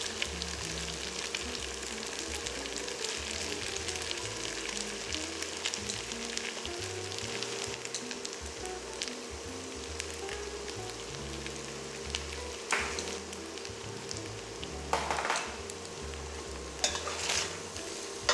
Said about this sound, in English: Fry them for about a minute,